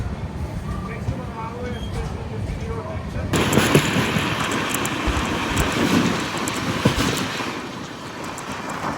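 Amrit Bharat Express on its inaugural Thiruvananthapuram to Charlapalli run pulling out of Erode Junction, a deep rumble that swells abruptly and holds as the train picks up speed, with faint rattles and clanks.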